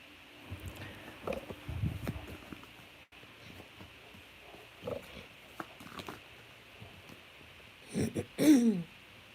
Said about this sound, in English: this is usually the time when I start to cough and clear my throat a little bit